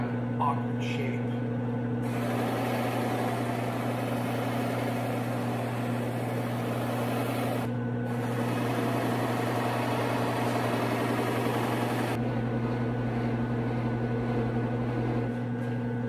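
Buffing machine polishing a wet-sanded polyester finish laid over acrylic artwork on a guitar body, a steady droning motor hum with a constant low tone that runs throughout, briefly dipping twice.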